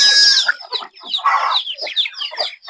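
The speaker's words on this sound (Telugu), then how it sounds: "ప్యూర్ ఒరిజినల్ మెట్టవాటాలు, తూర్పు జాతికి సంబంధించినవి ఈ పిల్లలు." Ten-day-old pure Mettavatalu country chicks and hens on a farm: high thin peeping at the start, then a run of close, loud clucks and chirps in quick irregular bursts.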